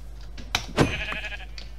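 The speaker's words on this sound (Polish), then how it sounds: "Owca." A sheep bleats in the video game Minecraft, one short clear bleat up close, following a brief sharp click, over a steady low hum.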